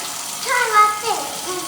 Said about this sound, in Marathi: अगं तू नळ बंद करणार